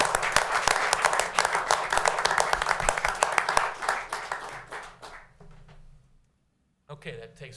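City council meeting audience claps for a group of volunteers, brisk dense applause that tapers off and falls silent, followed by a brief burst of talk.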